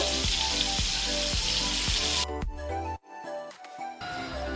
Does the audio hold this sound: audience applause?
no